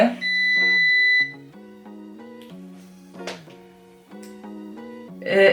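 Electronic warning beeps from a Philips MoistureProtect hair curling iron sound in short repeated tones, one longer beep near the start followed by several brief chirps, fairly clear against a quiet background.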